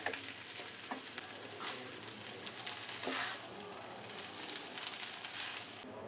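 Maggi noodles being stir-fried in a pan, a continuous soft sizzle with faint scraping and stirring, fairly quiet and close, with no voices.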